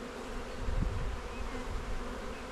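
Honey bees hum in a dense, steady drone as a random swarm colony is merged with split bees in a hive, with a brief louder rustle partway through and no voices.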